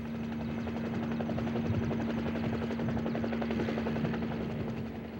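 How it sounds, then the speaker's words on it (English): A helicopter during the final American evacuation from Vietnam in April 1975 gives a steady, loud rotor thrum that holds without a break. "I got on the chopper and came out."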